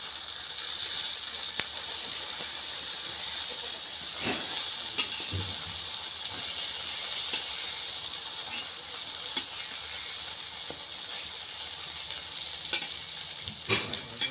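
Eggplant pieces fry in a pan for an eggplant yogurt curry, a continuous bright sizzle and hiss with occasional clicks and scrapes of stirring or turning, close and steady with no voices.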